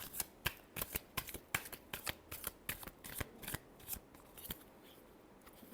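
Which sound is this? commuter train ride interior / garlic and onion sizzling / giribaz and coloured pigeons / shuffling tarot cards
shuffling tarot cards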